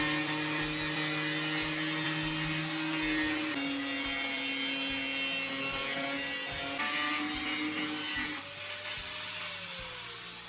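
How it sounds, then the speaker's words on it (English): Cutting tool trimming a smaller pot down to height, a continuous loud rasping scrape with a whining tone that shifts pitch in steps, easing off near the end. "You take the smaller pot and trim it down to the height you want using a cutting tool."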